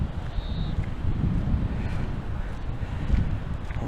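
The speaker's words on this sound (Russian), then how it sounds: "Вот тут ветер тоже." Steady low wind rumble buffets the microphone throughout, a constant outdoor roar with no talking.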